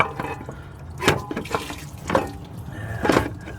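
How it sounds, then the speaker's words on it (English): Water gushes and splashes in uneven surges from a 1996 Chevy Tahoe 5.7-liter V8 radiator being flushed, with three louder bursts of rushing flow over a steady background trickle. "That's just flushing water though"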